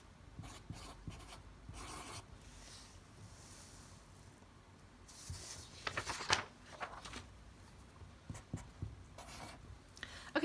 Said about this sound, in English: I'm going to write this out first